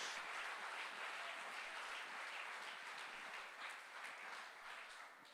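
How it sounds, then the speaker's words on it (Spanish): Church congregation applause during a Spanish-language sermon, a faint, steady wash of many hands clapping that fades slightly toward the end, heard from a distance. "¿Qué tal si le damos un aplauso al Señor?"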